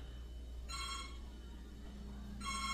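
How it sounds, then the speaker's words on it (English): A house landline phone rings in two short electronic bursts separated by a pause of over a second, fairly close and clear over a faint low hum. "house phone's ringing"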